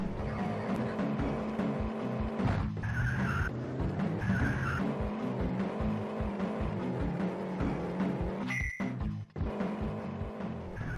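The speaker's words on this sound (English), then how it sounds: "Let's use our bat skills to try and pilot this vehicle in a straight line, hopefully by avoiding the rest of these citizens." Car driving and skidding in the Amiga video game Batman The Movie, with a continuous loud engine drone and short synthetic squeal bursts that recur through the stretch, no talking over it.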